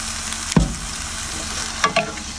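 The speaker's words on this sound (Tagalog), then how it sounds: "So ang gagawin nyo lang, ayan, isasangag lang natin siya na dahan-dahan." Pork floss being stir-fried slowly in a pan with syrup, giving a soft steady sizzle with a couple of brief scraping stirs of the spatula, close and alone without any talk.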